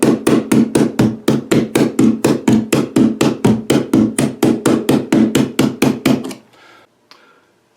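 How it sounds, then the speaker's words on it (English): Rapid, evenly spaced hammer taps bending a metal tab on a virtual pinball machine, about twenty sharp ringing strikes in a steady rhythm, then stopping and leaving near silence. "just hit it with the hammer a little bit"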